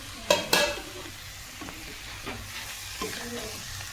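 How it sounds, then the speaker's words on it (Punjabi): Okra (bhindi) frying with spices in a pan, a soft steady sizzle under a couple of loud utensil knocks at first, then quieter stirring scrapes. "ਆ ਦੇਖੋ ਮੈਂ ਹੁਣ ਭਿੰਡੀਆਂ ਪਾ ਦਿੱਤੀਆਂ"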